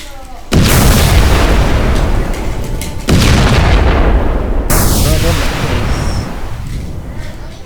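Rocket explosions with fire in a Unity game: loud booming blasts with roaring, rumbling tails, one bursting after another.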